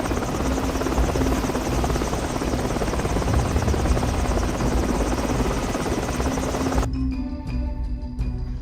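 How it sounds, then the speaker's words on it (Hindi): A helicopter roars close overhead with loud, continuous rotor chop and engine whine, then cuts off abruptly, leaving a few faint clicks. "हेलीकॉप्टर में बैठ वहां से रफू चक्कर हो गए"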